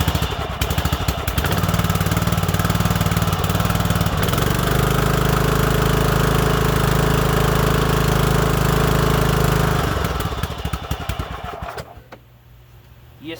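An engine runs loud and close after a valve lash adjustment, holding a steady rattling idle for about ten seconds before dying away to near quiet.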